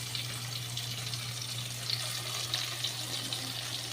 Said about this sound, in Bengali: মাছগুলোকে তেলের উপরে ছেড়ে দিয়েছি।